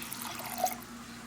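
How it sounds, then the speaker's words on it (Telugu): A cup of water is poured into washed toor dal in a pot, a brief, soft splash and trickle heard up close and fairly quiet. "ఇప్పుడు దీంట్లో నేను 1 కప్పు వాటర్ వేస్తున్నాను"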